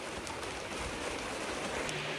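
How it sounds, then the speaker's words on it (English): Steady rain drumming on a metal roof, a dense continuous hiss with occasional louder drops, fairly soft and even. "rain on a metal roof should get loud every now and then"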